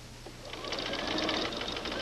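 A sewing machine runs steadily, straight-stitching quilt patchwork pieces, its rapid mechanical whir close and continuous for about two seconds with no talk over it.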